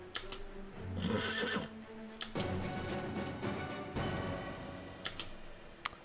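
In the video game Pathfinder: Wrath of the Righteous, a horse whinnies in a loud, prolonged neigh, accompanied by clip-clop hoofbeats and scattered clicks, and no one speaks.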